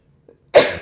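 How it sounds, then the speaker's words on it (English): A single sharp sneeze bursts out loud and close after near silence, with only a faint breathy intake just before it. "That was a real sneeze."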